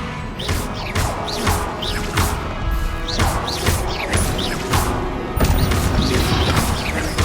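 Rapid series of sharp magical spell blasts and impacts during Hogwarts Legacy combat, repeating roughly every half second, with a heavier crash near the end.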